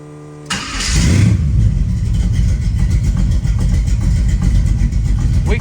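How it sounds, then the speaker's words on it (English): A 1980 Chevy Monza engine cranks and catches, rises quickly to a loud rev, then settles into a rough, lumpy idle that continues close by with no talking. "So I'm gonna fire it up for you real quick."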